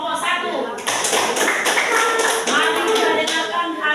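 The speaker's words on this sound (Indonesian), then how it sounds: "Beri tepuk tangan dulu untuk kelompok 1." A classroom of students claps for a group, a busy patter of hands tapping at close range, uneven and slightly rhythmic, with voices mixed in.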